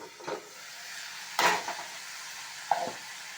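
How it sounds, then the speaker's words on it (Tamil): Chopped chayote being sautéed in a pan with tomato for chutney, giving a soft steady sizzle broken by a few scraping stirs of a spoon, close and fairly quiet with no talk. "நல்லா வதக்கி விட்டுருங்க."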